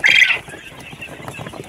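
A loud hen's cluck opens, followed by softer clucking and rustling from local chickens nearby in a coop.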